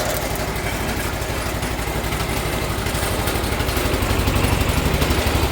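A 1980 John Deere 216 lawn tractor, freshly restored, runs steadily with its small engine chugging in an even rapid pulse, loud and close throughout, no voices.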